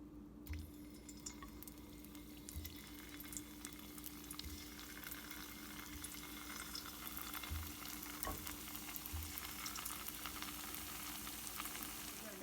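Gulab jamun dough balls fry slowly in oil over a low flame, giving a continuous soft crackling sizzle with faint bubbling and occasional small pops, close but quiet and steady throughout.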